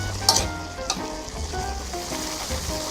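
Potatoes drop into a pot of boiling chicken curry, raising a close, steady sizzle and bubbling with a couple of sharp splashy clatters at the start.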